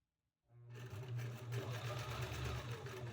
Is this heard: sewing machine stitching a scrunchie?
yes